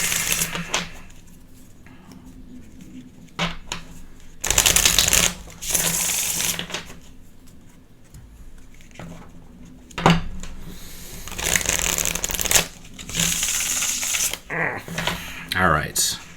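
Tarot cards being shuffled by hand in bursts of riffling and sliding, close and fairly loud, with pauses between rounds of mixing and a voice speaking faintly at times.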